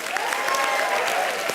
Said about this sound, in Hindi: तालियां विवेक के लिए